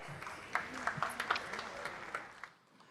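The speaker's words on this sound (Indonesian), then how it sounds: "Silakan tepuk tangan untuk Pak Anies Baswedan." An audience at a public question-and-answer event in Jakarta applauds Anies Baswedan. The clapping is moderate and uneven with sharper claps scattered through it, and it fades away near the end.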